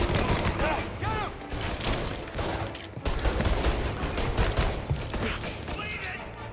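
Rapid bursts of gunfire fill a firefight in Mafia: Definitive Edition, shots cracking in dense overlapping volleys with echoing booms, while voices shout over the shooting throughout.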